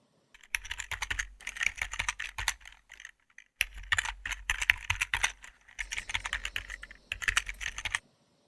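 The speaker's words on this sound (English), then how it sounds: "I don't know how most people film themselves typing, but this is what works for me." Fast typing on a computer keyboard at a treadmill desk, dense close clatter of keystrokes in three bursts separated by short pauses, no talking.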